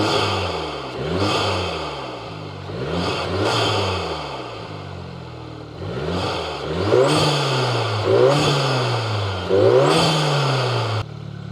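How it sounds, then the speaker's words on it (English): A Volkswagen Golf R engine revs repeatedly with the hood open, sharp throttle blips rising and falling in pitch several times over idle, loud and close, alone with no talk. "I'm gonna go ahead and give it some revs so you guys can hear how it sounds right now"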